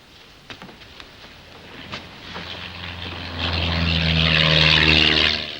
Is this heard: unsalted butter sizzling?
no